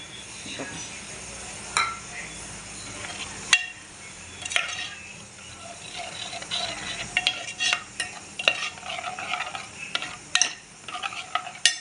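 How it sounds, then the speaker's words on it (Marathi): A spice masala with tamarind pulp fries and is stirred in a pan for a crab curry. Loud, close sizzling runs under frequent scraping and clinking of the utensil against the pan, growing busier toward the end. "सगळं एकत्र करून घ्यायचं आहे मसाला आपण चिंचेचं कोळ पण टाकून द्यायचं लगेच म्हणजे मसाला जळणार नाही खाली"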